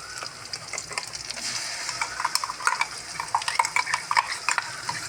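Radish curry with coconut, green chili and onion paste being stirred in a pan: close, irregular scraping and clinking of a spoon against the pot over a soft sizzle.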